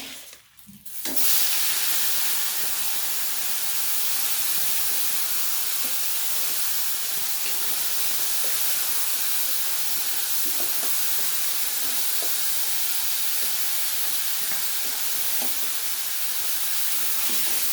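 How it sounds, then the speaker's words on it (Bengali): Prawns and fish frying in hot oil in a wok, a steady loud sizzling hiss that starts abruptly after a brief quiet moment and continues unbroken, close up with faint scrapes and pops underneath. "কিছুটা তেল দিয়ে দিয়েছি এবার মাছগুলো আমি ভাজতে দিয়ে দেবো"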